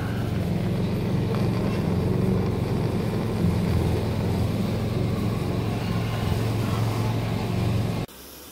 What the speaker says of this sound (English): It's supposed to be called a mini torch or a micro torch or something.